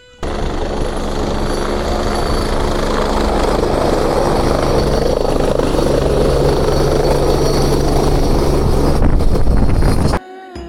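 A helicopter near Kedarnath flies close and loud, its steady rotor roar and engine drone going on without a break, with some wind rumble, and then it cuts off abruptly near the end.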